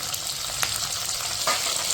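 Three medium tomatoes hit softened onions in a sauté pan, a steady close sizzle of frying with a couple of brief stirring scrapes and clinks.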